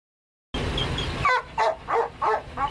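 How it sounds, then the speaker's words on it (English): Belgian Malinois police K9 dogs bark sharply after a brief silence, about five loud, close barks in quick succession over a low background hum. "For Nika, Taz, and Rocco, fighting crime is in their Belgian Malinois bloodline."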